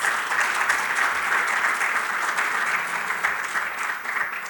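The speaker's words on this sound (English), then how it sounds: "let's give all our speakers a strong applause for their inspiring contributions" Steady, even applause from attendees at an international ESCO symposium, many hands clapping together for the speakers in a sustained wash with no voice on top.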